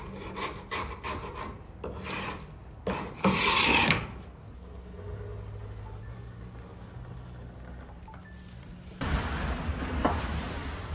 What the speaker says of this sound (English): so just a little chisel, just scrape it right off